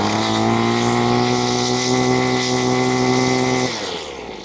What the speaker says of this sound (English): Then we're going to pull the starter rope until the engine starts.